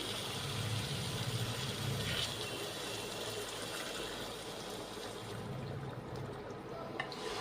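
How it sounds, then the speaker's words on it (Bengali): Hot water is poured into a pan of potatoes and spices cooking for a bhetki fish kalia, giving a soft, continuous rushing wash with low bubbling that fades toward the end, fairly quiet and with no talking. "এর মধ্যে এবার আমি গরম জল দিয়ে দিচ্ছি।"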